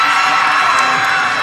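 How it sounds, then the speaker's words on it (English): A vocal crowd cheers and shouts steadily at a college gymnastics meet with Pitt, Rutgers and West Virginia, loud and continuous in an arena, with no talk over it. "Good crowd today for Mountaineers meet. Very vocal group."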